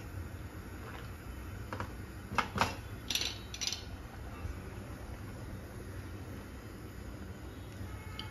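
A spoon scrapes and knocks against a kadhai as vari upma is stirred with boiled water, a handful of faint, irregular clicks and scrapes clustered in the middle over a low steady background hum.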